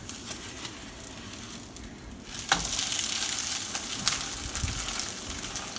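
Omelet for a bagel breakfast sandwich sizzling in a pan, a steady close hiss that swells louder partway through, with a few light clicks and scrapes and no talking.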